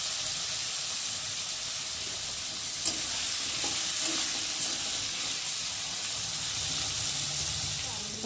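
Potatoes browning in a pan with a few green chilies give a steady, close sizzling hiss with light stirring scrapes and a faint clink or two.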